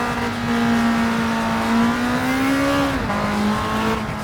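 Racing-game car engine in Gran Turismo, a steady loud drone that climbs in pitch, drops sharply as the gear changes, then settles again, with no talk over it.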